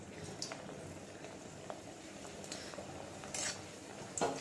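Cheese snacks fry in hot oil over a high flame, giving a steady soft sizzle and bubbling with a few clinks of a spoon stirring the pan, fairly quiet and with no talk.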